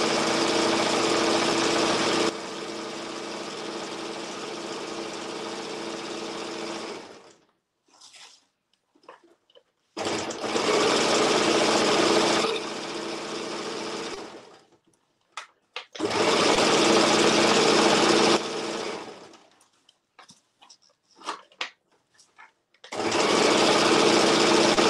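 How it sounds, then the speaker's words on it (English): A sewing machine stitching a birthday tutu runs in three long, steady whirring bursts, close and loud, each separated by short pauses filled with faint handling clicks. "We're done sewing now."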